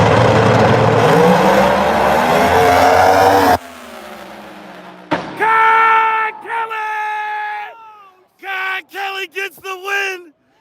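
No Prep Kings drag race cars, Ryan Martin against Kai Kelly, roar loudly at full throttle for a few seconds. The engine noise then cuts out, and voices and shouts with rising and falling pitch follow in bursts.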